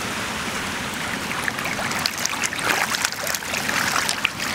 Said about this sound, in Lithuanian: Panašu į upėtakių veisyklą.